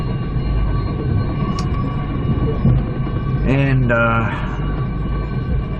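Aboard the Spirit of the Outback passenger train, a steady rolling rumble continues while a short horn-like tone sounds midway and a voice briefly speaks.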